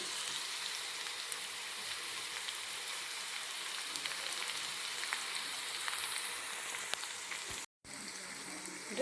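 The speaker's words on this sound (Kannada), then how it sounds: "ಹಸಿ ಮೆಣಸಿನ್ಕಾಯಿ ಹುರಿದ್ಮೇಲೆ ಕರಿಬೇವನ್ನು ಹಾಕ್ರಿ" Curry leaves sizzle in hot oil with green chillies for dal khichdi, a constant, close crackling fry with a brief dropout near the end.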